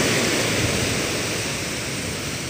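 The sea before a storm makes a loud, continuous roar of waves and surf, like broad wind-blown noise with no breaks and no voices.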